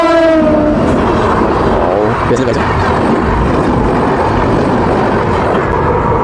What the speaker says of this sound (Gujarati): આવી આવી આવી ગઈ રેલગાડી જો